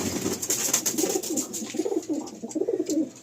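Madrasi pigeons, including a female, cooing and murmuring in a loft at dusk, with soft overlapping throaty coos repeating steadily throughout, close by and moderately loud, over a faint hiss of background noise.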